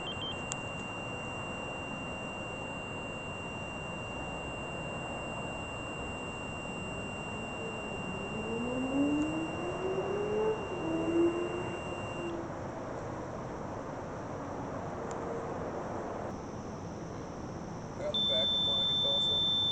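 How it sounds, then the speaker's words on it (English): A REM pod ghost-hunting device in an old building emits steady electronic alarm tones, with long continuous beeps that shift pitch partway through, heard fairly quietly alongside faint room noise and occasional voices. "Again, more activity from the REM pod."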